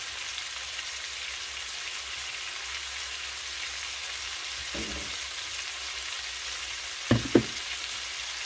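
Sautéed mixed vegetables sizzle steadily in a pan for several seconds, with a soft scrape and two sharper clanks of stirring near the end.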